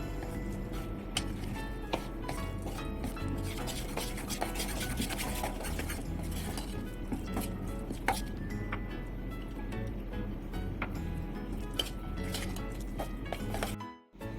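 A thick batter of sour buttermilk for a dhokla-style dish, made without lemon, is stirred by hand to work out lumps: a steady scraping, rubbing sound runs close and unbroken, stopping abruptly near the end.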